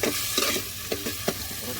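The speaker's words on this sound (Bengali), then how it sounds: "মুরগিগুলো এখন একটু ভেজে নিব সবজিগুলোর সাথে" Chicken pieces fry with vegetables in a pan for a chicken vegetable soup, giving a steady close sizzle broken by several sharp scraping stirs of a spatula.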